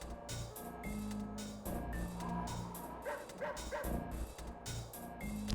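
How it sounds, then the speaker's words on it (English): A repeated synthetic dog bark from the video game Sly Cooper, shifted up and down in pitch, sounds several times in a row over a steady game music bed, with no talking. "It's like a keyboard MIDI file of a dog barking, and you can hear it's been pitched."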